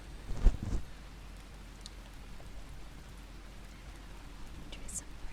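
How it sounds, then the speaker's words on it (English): Gentle rain patters steadily with a soft, even hiss, preceded by a brief louder knock near the start. "Enjoy some rain."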